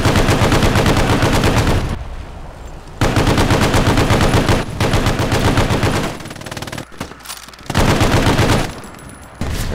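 A Bren light machine gun fires in long, rapid automatic bursts in the World War II shooter Hell Let Loose, loud and close, with brief pauses between strings of shots.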